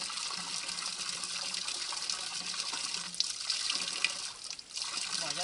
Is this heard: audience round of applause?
no